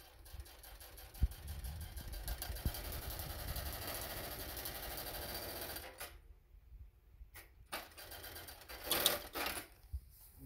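A Consew 2206RB industrial sewing machine stitches denim in a steady, close whirring run for about six seconds, then stops, leaving a few short bursts and a quieter tail.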